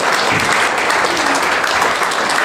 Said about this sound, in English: Give Chris a round of applause.